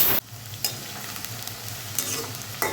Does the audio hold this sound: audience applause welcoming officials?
no